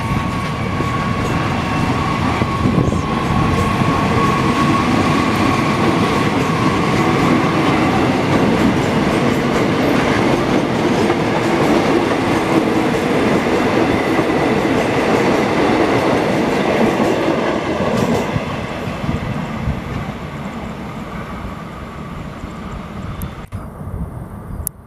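An electric commuter train departing Srowot station in Indonesia rumbles steadily close by with continuous heavy rolling noise and faint rail clatter, then gradually thins out toward the end.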